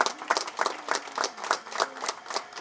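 A church congregation claps in rhythm, even rapid bursts repeating about three times per second, fairly close and lively, with no speech over it.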